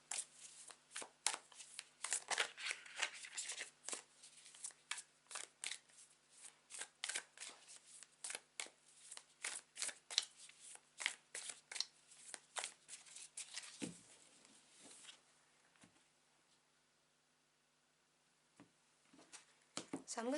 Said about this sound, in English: Take a couple of deep breaths whilst I shuffle the cards.